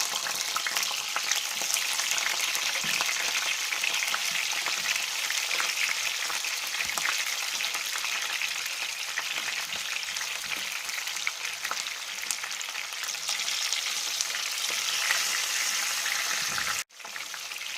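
Steady, loud sizzling and crackling of zucchini frying in hot oil, continuous throughout, ending with a brief clatter and a drop in volume.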